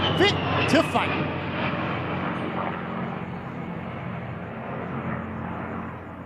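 An A-10 Warthog jet during an air show flight display, a broad loud engine roar that starts strongest and slowly fades as it passes, with a crowd and an announcer's voice faintly underneath.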